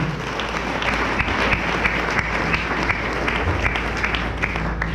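A church congregation at a French-language service applauds steadily, a dense wash of many hands clapping together that stays even and sustained throughout.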